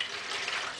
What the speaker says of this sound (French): Je verse l'eau